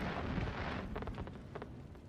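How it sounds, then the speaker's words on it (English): Fireworks set off in a video game burst with a rumbling, crackling blast that fades into a few softer popping crackles, moderately loud against a steady background. "So if you'll notice what I just did, I set off the fireworks"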